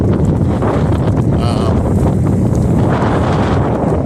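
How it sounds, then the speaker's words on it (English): Strong wind on a chicken farm buffets the microphone with constant low rumbling roar, gusting throughout without a break. "boy, it is windy here."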